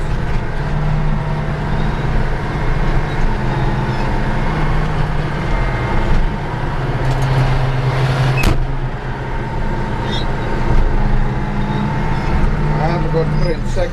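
Caterpillar D9 bulldozer engine running while the machine drives, a loud, constant low diesel rumble with clanks and rattles, recorded up close.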